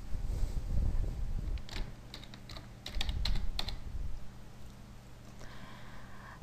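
Typing on a computer keyboard: a short cluster of light, quick key clicks in the middle, close and fairly quiet, over a low steady hum of background noise.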